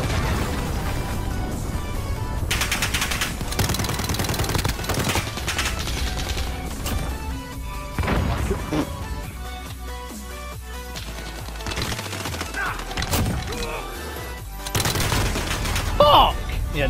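A sentry gun fires in Call of Duty: Modern Warfare, loud rapid automatic bursts running nearly throughout, mixed with other gunfire and game noise.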